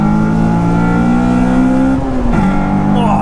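A Honda Civic Type-R EP3 engine pulls hard under acceleration from inside the car, a loud raspy exhaust tone climbing steadily, dipping briefly at a shift, then rising again.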